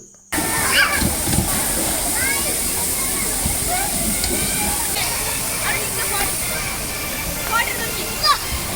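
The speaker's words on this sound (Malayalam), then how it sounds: "അടുത്തൊരു അടിപൊളി വാട്ടർ റൈഡാണ് റെയിൻ ഡാൻസ്" Water splashing steadily at a rain dance water ride in a children's fun village park, a constant spray and patter of falling water that runs close and loud through the whole stretch with no pause.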